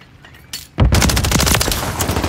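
Dense automatic gunfire and explosive bursts from Call of Duty Modern Warfare 3 multiplayer, starting with a few sharp shots before erupting into a loud, continuous barrage of rapid shots and impacts.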